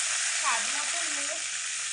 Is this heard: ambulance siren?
no